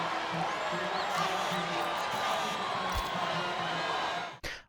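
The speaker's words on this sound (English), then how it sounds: "I need to turn the crowd down." Crowd noise from the F1 25 racing video game at the Budapest circuit, a loud, steady roar with cheering that runs continuously and drops away abruptly near the end.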